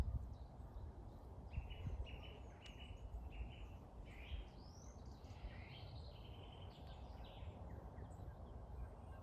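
Birds sing in castle gardens in the early morning, with varied chirps, trills and whistles from several birds at middling distance over a steady outdoor hiss and low rumble.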